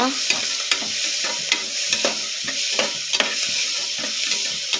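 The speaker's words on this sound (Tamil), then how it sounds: "இப்போ நம்ம வெங்காயத்தை சேர்த்துக்கலாம் வெங்காயத்தை நல்லா வதக்கிக்கலாங்க" Onions sauté in a pan for chicken curry, a steady close sizzle with repeated scraping stirs of a spoon, no voices.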